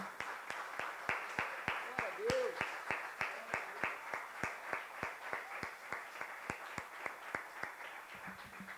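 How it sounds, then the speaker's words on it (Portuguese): A Methodist church congregation claps in a steady, rhythmic beat, many hands together at a brisk even tempo, with a faint voice or music underneath. "Você pode aplaudir ao Senhor?"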